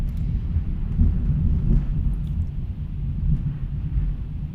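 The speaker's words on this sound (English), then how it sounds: "Thunder hitting." Thunder rolls through a storm that has knocked out the power, a deep, continuous low rumble that swells and fades slightly, heard alone without any voices.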